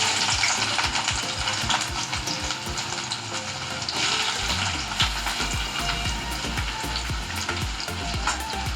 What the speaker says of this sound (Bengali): প্রথমে আমি পেঁয়াজ দিয়ে দেবো। এখানে আমি তেল নিয়ে নিয়েছি,